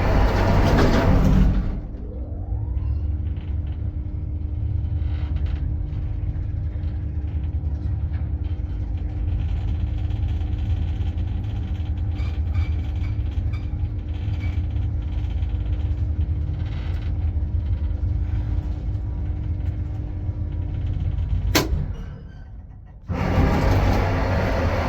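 A rare 1979 KMZ elevator in a Šeškinė apartment block, Ukmergės gatvė 206, riding: a steady low rumbling hum with faint rattles runs for about twenty seconds between the clunk of doors closing at the start and a sharp click and thud near the end.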